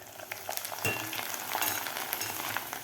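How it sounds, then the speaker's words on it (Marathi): Corn poha flakes frying in hot oil, added a few at a time for chivda, give a steady close sizzle and crackle with a few sharper pops and light stirring scrapes throughout. "मस्त तळत आहेत पोहे बघू शकता असे मस्त फुललेले आहेत पोहे"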